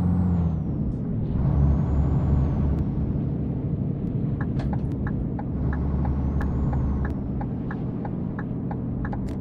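Setra 516 HD bus in Euro Truck Simulator 2 accelerating, a steady low engine rumble and whine with a string of sharp clicks and an air-brake hiss, continuous and close with no talking.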